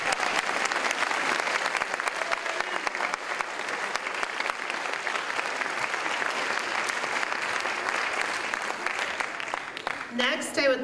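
Sustained audience applause at a senior awards night, dense steady clapping filling the room from start to finish, with a brief high whistle or squeal near the end.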